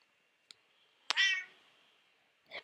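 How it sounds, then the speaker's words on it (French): A single cat meow, close and clear, framed by a couple of faint clicks in an otherwise quiet room. "Je sais pas si vous entendez mon chat"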